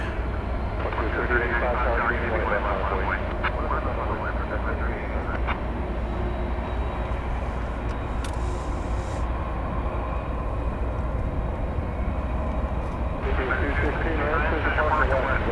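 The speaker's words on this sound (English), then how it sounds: "So there goes the 767 on its way." Boeing 767 freighter departing DFW Airport at night, a steady, loud engine roar that fills the span without letup, with speech heard over it.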